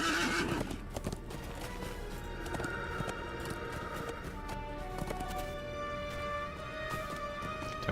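A war steed in the Lord of the Rings Online video game gallops with steady clip-clopping hooves and lets out loud whinnies, all close and continuous with no talking.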